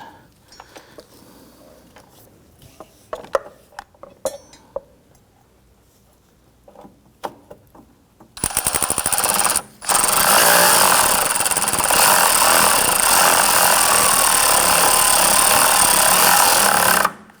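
A bolt on the battery bracket of a 2017–2020 Hyundai Elantra is driven tight with a power tool, first a few faint clicks and taps, then a loud sustained buzzing whir that runs close and continuous for several seconds.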